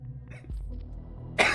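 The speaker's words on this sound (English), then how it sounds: "My cough was going away, but I just keep laughing at this game and it brings it all back" A single sharp cough bursts out near the end, close and loud, after a short stretch of low murmuring.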